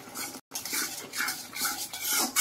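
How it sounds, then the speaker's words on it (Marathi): Spice powders, including garlic masala and Kashmiri and Byadgi chilli powder, stirred in hot oil for misal, with brief scraping and clinking of a spoon in a pan and a soft close sizzle, no talk. "आणि हे मसाले आपण छान परतून घ्यायचे तेलात,"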